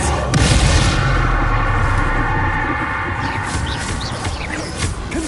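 A Bombarda explosion spell going off in the video game Hogwarts Legacy, a loud, sustained rumbling blast with crackling debris that slowly fades.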